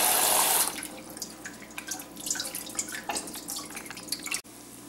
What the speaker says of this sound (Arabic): دابا غنطلق عليها الماء بارد باش تبقى محافظه على اللون ديالها